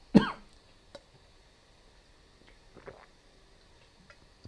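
One sharp, close cough at the start, then near silence with a few faint clicks and small rustles.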